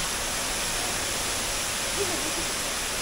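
Steady, rushing water roars without a break from an indoor waterfall heard close by at Gardens by the Bay, Singapore.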